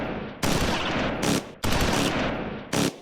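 Machine gun fire from the World War II game Close Combat 4, set at Baugnez in the Battle of the Bulge: two long, loud, dense bursts of rapid automatic shots, each followed by a short sharp crack, with no talk.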